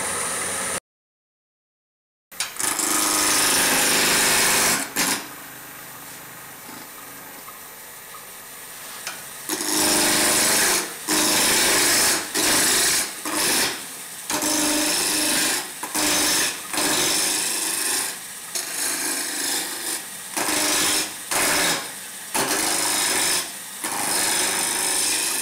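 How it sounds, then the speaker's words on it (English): A spindle roughing gouge turns wood on a lathe, giving a loud, close scraping whir in repeated bursts with short pauses between cuts, after a brief silent gap at the start. "This is a turning that I can use a spindle roughing gouge on."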